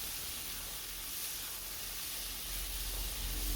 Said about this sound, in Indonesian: Lalu masukkan parenya ke dalam wajan. Tumis